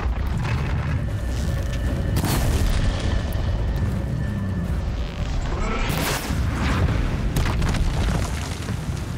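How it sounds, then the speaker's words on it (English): A loud in-game explosion from Horizon Zero Dawn during a machine fight, a dense, sustained rumbling boom that fills the whole stretch with heavy low-end roar and crackling bursts. "It's gonna explode."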